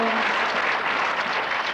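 Crowd of students applauding and cheering at a 1969 campus meeting at PSU, a dense, steady wash of clapping held at full level for the whole moment, close and continuous.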